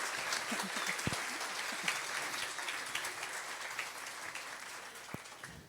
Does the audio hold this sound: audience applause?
yes